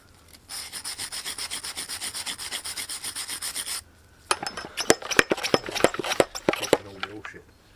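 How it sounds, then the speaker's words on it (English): A wire brush scrubs a rusty rear wheel bearing part from a Mercedes T1 207-310 van: about three seconds of rapid, even scraping strokes, a short pause, then sharper, irregular brushing and knocks close by. "I'm going to give it a little wire brush and then some brake cleaner treatment."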